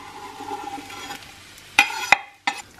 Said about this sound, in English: And just toss all of that together